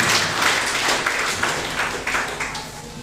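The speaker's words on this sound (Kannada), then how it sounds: "ಅವರಿಗೆ ಒಂದು ಜೋರಾದ ಚಪ್ಪಾಳೆಯ ಮುಖಾಂತರವಾಗಿ ಸ್ವಾಗತವನ್ನ ಕೊಡ್ತಾ ಇದ್ದೇನೆ" An audience at a college women's education seminar applauds to welcome the principal onto the stage, with steady crowd clapping that stays dense and moderately loud throughout.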